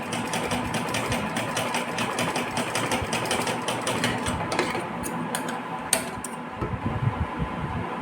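Sewing machine stitching a small outfit for a Laddu Gopal deity figure, a continuous rapid mechanical chatter and hum, fairly loud and close, with a few sharper knocks near the end.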